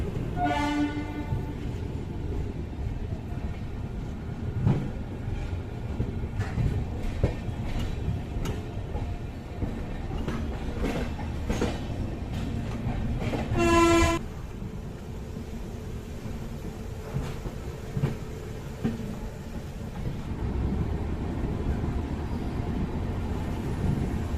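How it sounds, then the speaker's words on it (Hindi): Karmbhoomi Superfast (12546 LTT–Raxaul) pulling into platform 3 at Raxaul station: a steady rumble of wheels and coaches runs throughout, with a loud horn blast near the middle and a harmonic whine at the start. "तो अपनी कर्मभूमि सुपरफास्ट रक्सौल के प्लेटफॉर्म नंबर 3 पर बिफोर टाइम आ चुकी है"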